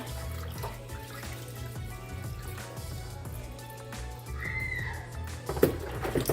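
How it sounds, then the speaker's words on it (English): Raw oxtail rinsed under a running kitchen tap, heard as a steady close splash of water into a sink with a few louder sloshes and clatters near the end, with no talk. "I'm just gonna give it a rinse just to get off the excess blood, just to drain the excess blood"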